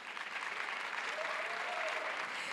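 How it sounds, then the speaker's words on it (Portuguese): Audience applause at a discussion of the film O Território during the 12th GIFE Congress, a steady, continuous wash of clapping from a crowd that holds at an even level throughout. "Por favor, uma salva de palmas."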